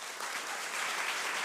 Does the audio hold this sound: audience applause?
yes